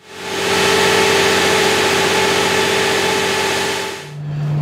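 An industrial generator without a sound enclosure gives a loud, steady engine drone with a constant hum, running nearly continuously, then dropping away near the end, leaving a lower rumble.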